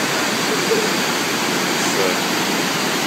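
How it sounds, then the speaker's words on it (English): The Plaisance waterfall on the north shore of the Ottawa River in Quebec roars as a loud, steady broadband rush of falling water, with someone speaking briefly over it. "and I'm at the Plaisance waterfall."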